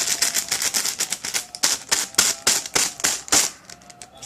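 Squishy foam toy crackles and crumples as it is squeezed repeatedly, a fast, close series of sharp crinkling snaps coming in quick bursts with no talking.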